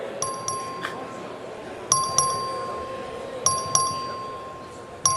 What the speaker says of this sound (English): the clerk ring the bell